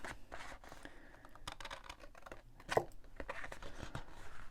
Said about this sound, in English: So rotate your cardstock and then just cut away